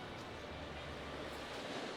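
Baltic Sea surf at Gąski beach on the Polish coast, a steady broadband wash of waves with wind buffeting the microphone, continuous and fairly loud throughout.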